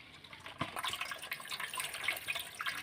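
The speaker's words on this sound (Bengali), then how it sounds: "আলুর খোসাগুলো এবার ধুয়ে নেব ভালোভাবে" Potato peels are washed by hand in water, with close splashing, sloshing and trickling at a moderate level and a sharper splash near the start.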